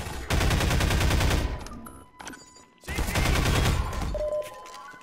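Automatic weapons fire rattles in Half-Life 2 during a fight with Combine soldiers in a tunnel, two loud sustained bursts of rapid shots separated by a brief lull.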